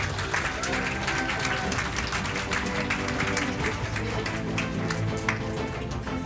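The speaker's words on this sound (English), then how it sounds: "So please give a big round of applause to them" An audience applauding at a graduation ceremony on a Bangkok campus, a dense, sustained wash of many hands clapping from a sizeable crowd, with a faint murmur of voices mixed in underneath.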